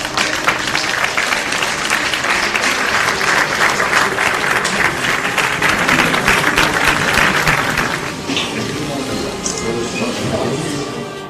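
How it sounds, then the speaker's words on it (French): An arena crowd applauds a boxer with loud, sustained clapping that fills the space, then thins and drops off after about eight seconds as a voice comes in. "Vous applaudissements pour monsieur Jérôme Le Banner"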